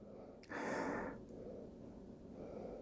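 A person takes a quick, breathy sniff over a glass of Hurricane IPA from Westhampton Beach Brewing Co., a short burst of air near the microphone followed by quiet room tone.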